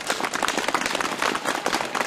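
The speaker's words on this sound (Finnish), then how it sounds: "Maijalle aplodit" A live audience claps for Maija at a cap-crowning celebration in Heinola, a dense burst of close, lively applause that runs on steadily with no one speaking.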